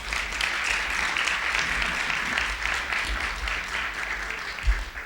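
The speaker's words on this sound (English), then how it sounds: "Please give them a round of applause." Audience applause at a welcome session, a steady wash of many hands clapping at moderate distance with a few louder thumps near the end.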